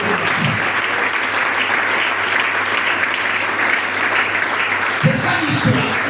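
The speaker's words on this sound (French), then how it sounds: "Acclamons très fort." Church congregation applauding in a dense, steady burst of clapping for several seconds, loud and close, with voices mixed in.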